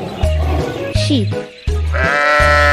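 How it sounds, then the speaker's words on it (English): Cartoon sheep bleat in a few quavering calls over a steady, bouncy kids' music beat, close and loud. "Sheep. Sheep."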